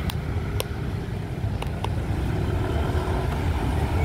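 A Harapan Indah sleeper bus rolls past on a road in Aceh, a steady broad rumble of engine and tyres with faint higher road noise, continuous and fairly loud throughout with no talk.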